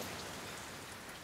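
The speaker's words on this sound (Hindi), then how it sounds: "उन्हें तो इस बारिश का आनंद लेना चाहिए था।" Steady rain falls in a faint, even wash of patter with no breaks.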